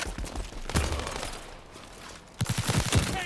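M416 assault rifle fire in a shooter video game: a few separate bursts of rapid shots, with one near the start and a denser rattling volley toward the end, sharp and fairly close over a noisy background.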